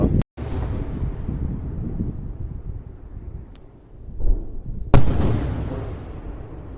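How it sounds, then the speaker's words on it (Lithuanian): Artillery being test-fired far off near Preila on the coast, heard as low rumbling booms with a sharp report partway through and another louder crack later, over a steady wind-buffeted background. "čia kokią artileriją šaudo, testuoja"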